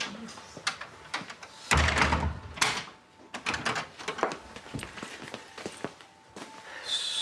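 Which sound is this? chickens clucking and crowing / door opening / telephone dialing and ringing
door opening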